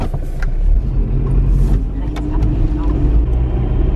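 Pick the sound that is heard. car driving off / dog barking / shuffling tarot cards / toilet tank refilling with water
car driving off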